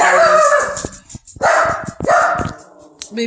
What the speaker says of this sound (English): He thinks he's a guard dog.